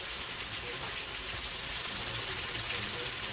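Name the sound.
washing onions under running tap water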